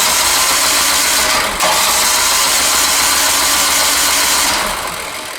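Loud, continuous whir of a snow blower's electric starter cranking the engine, which never catches; the droning holds steady for several seconds before easing off slightly, with no speech.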